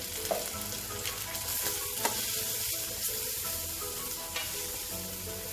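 Asafoetida dropped into hot oil in a tiffin-style vegetable dish sizzles and crackles loudly and continuously up close, with light stirring taps and no speech.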